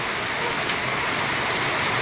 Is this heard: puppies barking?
no